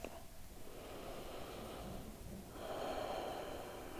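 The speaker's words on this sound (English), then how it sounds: "Taking about 3 rounds of breath here." Slow, deep breaths during a yoga pose, steady and quiet throughout, growing slightly fuller in the last part.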